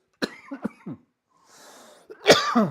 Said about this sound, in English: I do apologize for coughing.